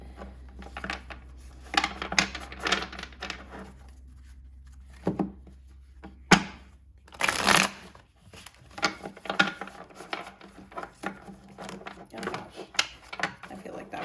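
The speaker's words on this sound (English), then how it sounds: "A weird shuffle, but we're gonna split the deck anyway." Tarot cards are shuffled and riffled close up in quick, clattering bursts with pauses between, and a person speaks softly in between.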